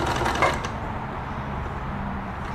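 A Necchi 525FA sewing machine stitches steadily, its close, continuous mechanical whir running without pause for the whole stretch, with no talking.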